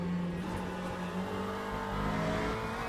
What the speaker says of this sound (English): Hypercars, here they come.